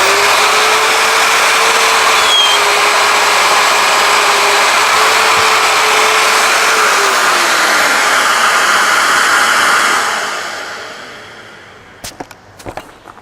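A plunge router with a dust extractor attached cuts into a scaffold board table top, a loud steady whine holding for about ten seconds before winding down, followed by a few sharp knocks.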